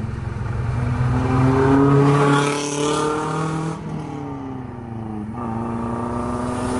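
A speeding bus roars past on a road, its engine loud and rising as it nears, then the pitch drops and shifts as it pulls away, followed by another engine sweep.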